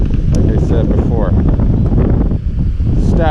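Wind gusting hard at a large spillway while kayak fishing, a loud continuous broadband roar of wind buffeting the microphone, with a person talking over it.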